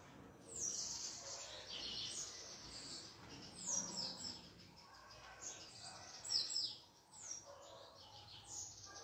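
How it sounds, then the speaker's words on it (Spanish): Small birds chirp and tweet in short high bursts, several calls scattered across a quiet background, fairly close. "Qué cerca que están los pajaritos"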